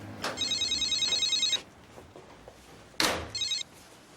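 A telephone rings in a police office in a 2001 French TV crime drama: two loud, close bursts of electronic trilling, the second cut short when it is picked up, with a quiet gap between them.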